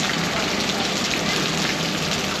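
Heavy, non-stop monsoon rain falling in Ahmedabad, a dense, even hiss that stays loud and unbroken throughout.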